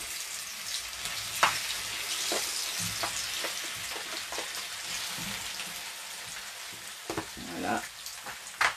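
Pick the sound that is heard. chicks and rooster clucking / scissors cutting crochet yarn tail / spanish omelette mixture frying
spanish omelette mixture frying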